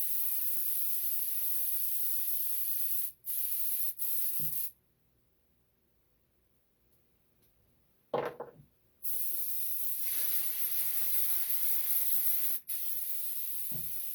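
An airbrush sprays brown paint onto the old stems of latex foam props with a steady, loud hiss. The hiss cuts out briefly a few times, stops for a long pause, then resumes.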